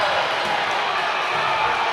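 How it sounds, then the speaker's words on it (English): A boys high school basketball crowd roaring after a blocked shot, a dense, loud, sustained wash of cheering voices filling the gym. "As you hear the reaction from the crowd,"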